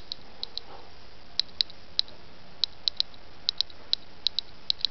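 An SBM-20 Geiger counter tube with uranium glass held near it sends sharp, crisp clicks through a small speaker. About fifteen ticks arrive at irregular intervals over a quiet hiss, some close together and some spaced apart, with no voices.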